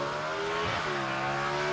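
A drag race car engine at a Lyons, Indiana drag racing event screams at full throttle, a steady high-pitched whine heard at a distance and fairly faint, with a brief pitch dip midway.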